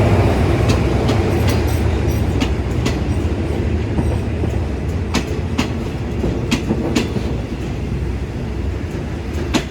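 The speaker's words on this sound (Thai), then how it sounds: "ก็ทางขบวนค่อยๆเคลื่อนเข้าสู่สถานีสุราษฎร์ธานีในชันชราทางที่1นะครับ" SRT express train No. 85 rolls into platform 1 at Surat Thani station in Thailand, a loud, steady rumble of rail cars with repeated clickety-clack wheel beats throughout.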